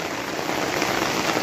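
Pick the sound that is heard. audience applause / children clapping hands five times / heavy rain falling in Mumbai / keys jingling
heavy rain falling in Mumbai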